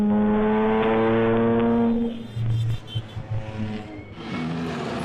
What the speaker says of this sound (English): As you can hear them crossing the line, the hooters even work on these cars.